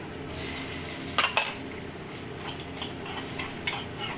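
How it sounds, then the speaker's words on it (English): Chana dal, coriander seeds, cumin and peppercorns fry in a pan with a continuous soft sizzle, punctuated by a couple of bright metallic clinks and scrapes from stirring. "Just fry."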